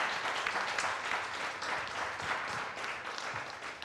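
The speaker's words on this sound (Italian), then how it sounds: "un applauso per voi" Audience applause for the speakers at a public talk, a fairly dense patter of many hands clapping steadily throughout with a slightly uneven loudness and no speech on top.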